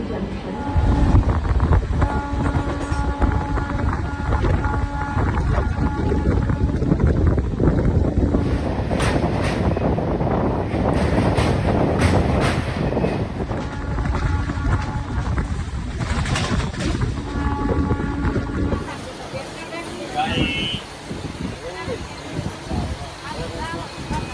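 The Jnaneswari Express passenger train from Howrah rumbles steadily along with a constant roar and wind buffeting, and faint voices murmur beneath the noise.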